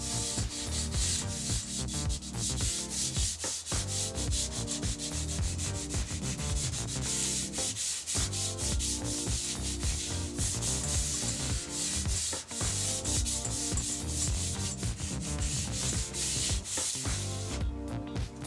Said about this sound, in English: I'm going to lightly sand it